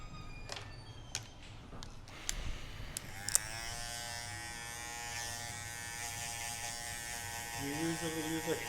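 An electric shaver or razor starts up partway through a haircut and hums steadily and close for several seconds, following some clicks and light handling knocks, with barbershop voices faintly in the background.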